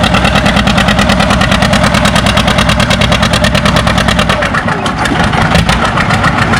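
A John Deere 730 pulling tractor works at a tractor pull in the 8,000-pound class, its engine hammering loud and close with a rapid, steady pulsing beat that roughens briefly near the end.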